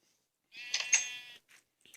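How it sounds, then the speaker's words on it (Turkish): A Minecraft sheep bleats once in a clear, wavering cry, followed by a couple of faint short bleats, with no talking around it. "Galiba koyunumuz bizi çağırıyor"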